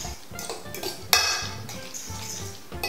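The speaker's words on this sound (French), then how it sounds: "je vais les ajouter à la préparation pour flan en essayant de remuer après assez vite pour pas que les œufs coagulent" Cooked vegetables are stirred into an egg flan mixture in a dish, with close clinks and scrapes of a utensil against the dish and one sharp clatter midway, no talking.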